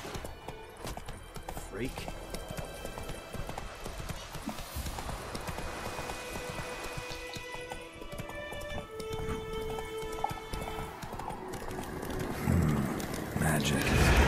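Steady clip-clop of the horse Roach galloping in The Witcher 3, rhythmic and close, layered with game music, with voices talking intermittently and the hoofbeats swelling louder near the end.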